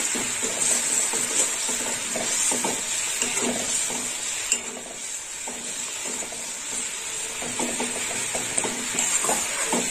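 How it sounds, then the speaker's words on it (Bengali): A cabbage and poppy-seed paste curry with salt and slit green chillies is stirred in a pan, spoon scraping in irregular strokes over a continuous close simmering sizzle and hiss. "এবার একটু নেড়ে চেড়ে নেবো।"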